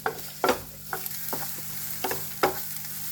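Finely chopped carrots are stirred in a hot pan, with a spatula scraping and knocking against the metal every half second or so over a soft, steady sizzle.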